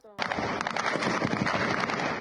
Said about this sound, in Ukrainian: чути стрільбу над головами